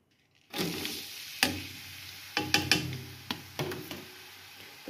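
Onions go into hot oil for a lamb chop dish. After a brief silence a sudden sizzle bursts in and continues as a steady hiss, broken by several sharp pops and spatters.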